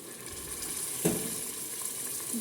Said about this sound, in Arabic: صبوا شويه ماء سخونه